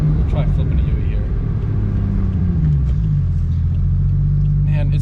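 A Toyota JZX100 engine and exhaust while driving, a loud, close, steady low drone that shifts pitch as the car changes speed, with some talk.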